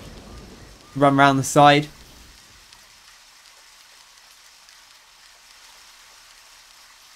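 Steady rain falls in the Deadly Premonition video game, a soft, even hiss running throughout, briefly under a short burst of speech near the start and then alone.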